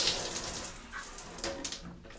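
Water runs steadily from a shower head fitted with a ProMAX filter, a continuous hiss with some splashing bursts, moderately close and with no one speaking.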